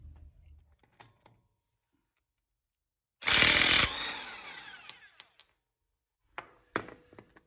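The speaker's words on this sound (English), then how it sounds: "I use my impact wrench on this now" An impact wrench hammers at the castle nut on a 2014 Subaru Forester's CV axle, one loud rattling burst of just under a second that dies into clinks, with a few short mechanical knocks afterward in a quiet garage.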